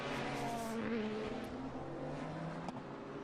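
GT race cars at the 2018 WeatherTech SportsCar Championship at Laguna Seca exit turn 5 and climb the hill into turn 6, their engines a fairly distant, rising and falling roar.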